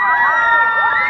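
Crowd cheering and shouting at a stage performance in Yunlin, with an excited, high-pitched wash of many voices sustained throughout at moderate loudness.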